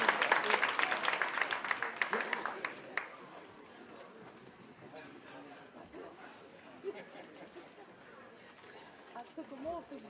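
A crowd at a political rally gives a short burst of hand clapping that fades within a few seconds into murmuring chatter and scattered voices.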